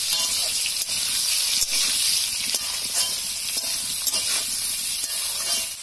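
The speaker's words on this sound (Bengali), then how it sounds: "এবার কড়াইতে তেল দিয়ে, তেলটা গরম হলে তাতে তেজপাতা গরম মশলা ফোড়ন দিয়ে সেদ্ধ করে রাখা আলুগুলো ছেড়ে দেবো।" Boiled potatoes frying in hot oil in a kadai with bay leaf and garam masala, as in a Bengali aloo dum: a steady, close, bright sizzle with faint stirring clicks, no talking.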